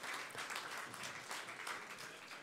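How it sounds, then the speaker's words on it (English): Steady, fairly distant audience applause for a winning startup at a pitching stage event, continuous clapping filling the whole stretch at modest loudness. "Round of applause."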